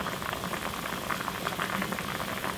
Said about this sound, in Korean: 이제 팔팔 끓으면 라면을